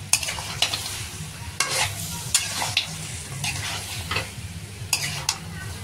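Spices and fried potatoes are stirred in a pan with a drop of water, giving a steady close sizzle broken by repeated sharp scrapes and knocks of the spoon against the pan.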